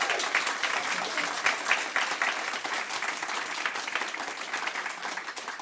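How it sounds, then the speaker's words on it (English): A conference audience at a local groups plenary gives sustained applause, dense and steady clapping from many hands that fills the room evenly for the whole stretch with no voices over it. "I'd just like to give a really, really big round of applause to every single one of them today."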